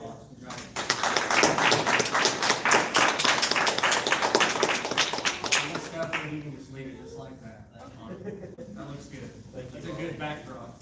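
A meeting audience breaks into applause, a loud burst of many hands clapping for several seconds that fades out, followed by people talking.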